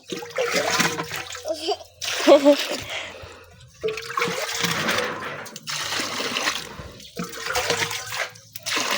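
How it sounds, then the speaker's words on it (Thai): Vegetables being washed under running water, with steady splashing and trickling in several bursts separated by short pauses, close by, while voices talk over it. "ล้างละ ล้างผักเซียน"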